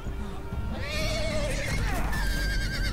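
A horse in a Game of Thrones video game gives a loud, drawn-out whinny, rising and wavering over rumbling background noise, with a second neigh following close behind.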